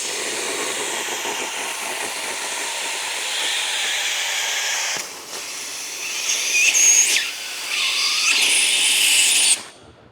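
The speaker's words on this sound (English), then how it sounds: "I'll usually just grab my steamer" Handheld steamer hissing steadily while old window tint is removed from a rear windshield with defroster lines, a loud continuous broadband hiss with a brief dip midway, surging again before cutting off near the end, no talk.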